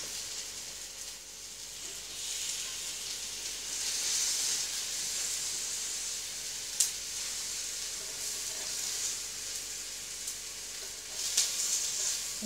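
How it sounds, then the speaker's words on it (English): Tomatoes sizzling steadily in a hot cast iron skillet, a continuous close frying hiss with a couple of brief sharper pops, no speech. "because this is a cast iron skillet, if I flip it now, the heat will cook the other side"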